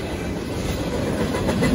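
A northbound Union Pacific mixed freight train with BNSF units rolls past at a road crossing at night, a steady close rumble with rhythmic clickety-clack of wheels over the rails.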